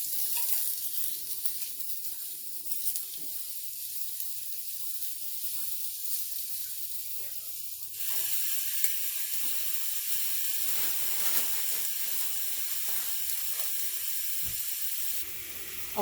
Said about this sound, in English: So I'm not going to put the bacon on the grill yet because, yes I am.